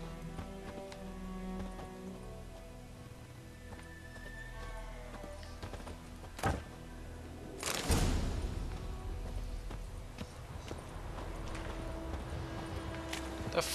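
Horse hooves clip-clop at a walking pace against a busy soundscape in The Witcher 3: Wild Hunt, with a sudden thud partway through and steady ambient noise.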